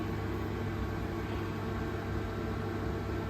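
Small onions sautéing in a pan for Kerala-style uppumavu, a steady, dense sizzle that holds even and unbroken throughout, close and fairly loud, with no voices over it.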